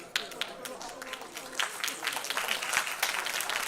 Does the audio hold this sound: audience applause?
yes